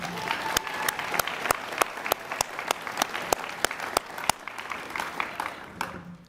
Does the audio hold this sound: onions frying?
no